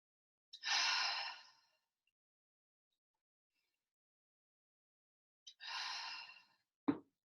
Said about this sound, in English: Deep breath in. Blow it all away.